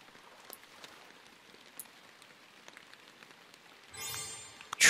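Light rain falls in the Fishing Planet fishing game: a soft, steady patter with scattered droplet ticks, then a louder broadband swell near the end.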